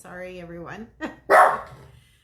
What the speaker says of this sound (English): there's the dog barking at people outside